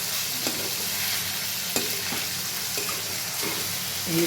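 Vegetables stir-frying in a pan for mixed chowmein, a steady close sizzle broken by a few scraping stirs and light clanks of the utensil, heard without talk.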